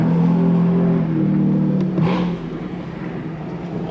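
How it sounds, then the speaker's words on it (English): BMW M4 engine at cold start, a steady loud idle drone that rises slightly in pitch and then settles lower, close by with no talking. "I love those cold starts."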